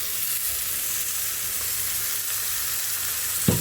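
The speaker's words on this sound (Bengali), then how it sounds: "এখানে আমি ভাজিটা দিয়ে দিব, কেটে রাখা করলা আর আলুটা দিয়ে দিচ্ছি" Cut bitter gourd and potato pieces hit hot oil in a frying pan, giving a steady, close sizzle throughout that ends with a short bump of the pan or spoon.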